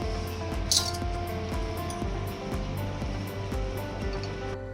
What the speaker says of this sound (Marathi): असा एक चमचो घेऊन सगळं मिक्स करून घ्या